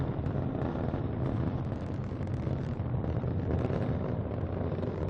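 Rocket launch carrying the GOES-O weather satellite in early flight: a continuous, heavy low rumble and roar with steady loudness and no pauses, heard alone without any voices.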